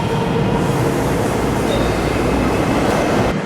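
A Kazan metro train roaring steadily past at close range, dense rumbling wheel noise with a faint squeal, loud and continuous before cutting off abruptly at the end.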